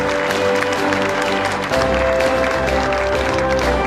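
Steady applause from a large audience at a corporate investment announcement event, dense and continuous throughout, with a low hum beneath the clapping.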